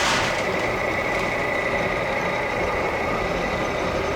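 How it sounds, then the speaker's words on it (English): A running corn mill with a shaker feeding corn between vertical stone wheels gives a dense, steady mechanical rumble and hum, loud and unbroken throughout. "You can feel the mill shaking."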